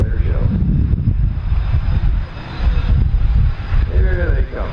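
Canadian Forces Snowbirds jets taxiing on the ground after an air show, a steady loud engine rumble and roar with wind noise, continuous throughout with a brief rising whine near the end.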